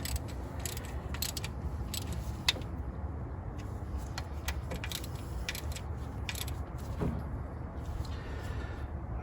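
A torque wrench tightens 10 mm bolts on a Dodge Ram 5.7 Hemi engine, giving a dense, steady run of close mechanical clicks and rattles with scattered sharper ticks throughout.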